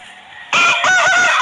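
An Aseel rooster crows loudly and close by, a single sustained cock-a-doodle-doo that bursts in after a quiet moment and holds its bright, warbling call to the end.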